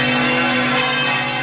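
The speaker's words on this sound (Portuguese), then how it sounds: "Vamos ouvir os sinos da maior basílica do mundo." Church bells of the Basilica of Aparecida ring as a sustained, dense wash of overlapping tones, broadcast over the radio and loud throughout, with no voices.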